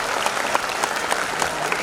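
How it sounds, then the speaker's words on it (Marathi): Seated audience at a live Agri-Koli tradition stage event in Ghansoli clapping together, a steady dense patter with a few sharper peaks, moderately loud and even throughout. "टाळी वाजवूया बघून मस्तपैकी"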